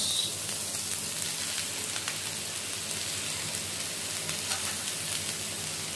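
Mushrooms fry in a pan for a pan pizza, a continuous close sizzle with faint crackles and soft stirring, steady throughout with no talk.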